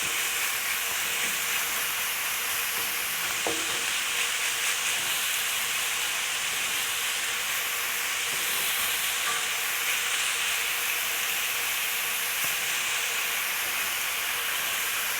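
Pork for Taiwanese braised pork rice sizzles and renders in a hot wok over medium-high heat, a loud continuous hiss with faint scrapes of stirring and no voices.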